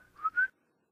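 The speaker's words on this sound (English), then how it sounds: "the boy, who let out a whistle which Pepper instantly obeyed" A short two-note whistle calls a dog in a children's audio story, a brief rising tone that is clear but fairly quiet, alone with no talk.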